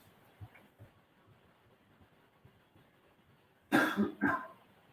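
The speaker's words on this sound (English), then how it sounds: "I'm still coughing" A couple of faint coughs early on, followed by a louder burst of two or three harsh coughs close to the mic near the end.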